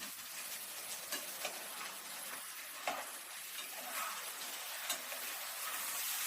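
Food sizzles and crackles quietly in a hot pan in a remote Belarus village kitchen, a steady hiss with occasional small pops, close by with no talking.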